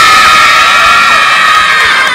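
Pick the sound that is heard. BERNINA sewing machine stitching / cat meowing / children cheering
children cheering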